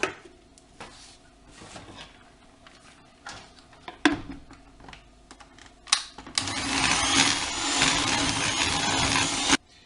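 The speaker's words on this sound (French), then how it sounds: "on va fouetter de nouveau" Sun tart batter being whisked, likely with an electric whisk, as a steady loud whirring that starts after several seconds of scattered kitchen clatter and runs continuously to the end.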